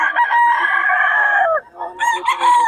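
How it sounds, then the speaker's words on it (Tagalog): A white Kelso rooster crows loudly and close by, one long crow that breaks off about halfway through, followed by a shorter rising call, with the busy chatter of a fowl market behind it. "Maganda ng mga manok ni boss yun."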